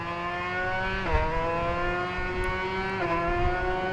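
A two-stroke motorcycle engine revs hard at a steady high pitch, briefly easing off twice as the rider shifts gears, loud and close, with no talking.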